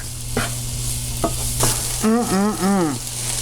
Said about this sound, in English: So I'm going to saute this down